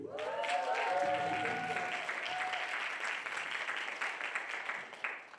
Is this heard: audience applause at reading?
yes